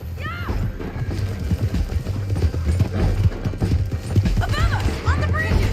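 Horse hooves clip-clop in a steady galloping rhythm in Red Dead Redemption 2, close and continuous over game ambience and music, with brief whinny-like calls rising near the start and end.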